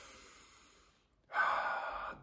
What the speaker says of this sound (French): Tu prends encore trois respirations